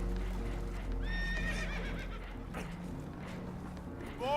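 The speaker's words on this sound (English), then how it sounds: "Horses are spooked, and we're taking on water." Spooked horses neighing on a boat in Red Dead Redemption 2, several shrill whinnies rising over a low rumbling background, with hoof clatter and another whinny starting at the end.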